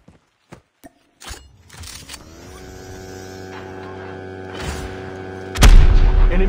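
A shotgun in Call of Duty Mobile fires once with a loud, sudden blast near the end, after a few faint clicks and a rising electronic hum.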